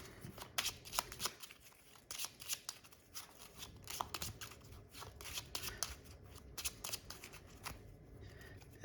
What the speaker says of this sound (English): Now, each player with their deck will shuffle.